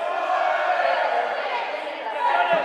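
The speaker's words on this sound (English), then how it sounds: "Can you hear the Olays here? And the crowd really enjoying this." A football crowd at a Kings League match chants olés in a sustained, loud, droning roar that swells slightly toward the end.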